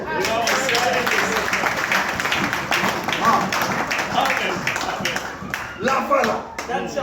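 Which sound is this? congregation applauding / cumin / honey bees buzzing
congregation applauding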